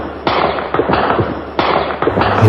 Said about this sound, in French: Les premiers coups de feu retentissent pour un bas de combat.